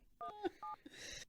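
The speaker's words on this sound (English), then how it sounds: "Let's see if I can actually dial the phone number." A phone keypad dials out, giving a quick sequence of distinct tones close up, with short gaps between presses and a brief burst of noise at the end.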